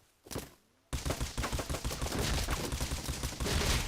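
Rapid bursts of bolt-action rifle gunfire in the survival video game Rust, loud and close, with a sharp onset after a brief quiet lead-in, shots and impacts crowding together in a dense, continuous barrage.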